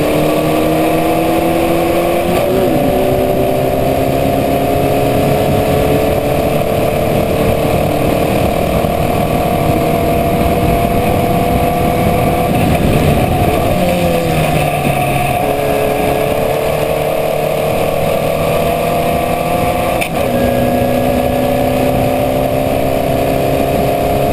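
A Formula Vee race car drives down the straight at a 2014 NSW round. Its engine drones loudly and close, pitch climbing steadily through the gears, with brief dips at each shift and another car nearby.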